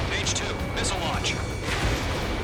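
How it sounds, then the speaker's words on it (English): Missile launches boom amid battlefield fire in Ace Combat 7: Skies Unknown, with several heavy blasts and rushing bursts stacked under frantic radio voices. "Missile launch."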